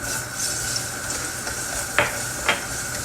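Garlic sautéing in hot oil gives a steady close sizzle, with two sharp scraping stirs of a utensil in the pan near the end.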